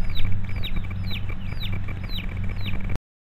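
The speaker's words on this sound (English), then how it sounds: "There's the chicken." A chicken in a coop built from old barn tin and posts clucks in a quick repeated run of sharp, close calls over a low steady background hum, with no talk.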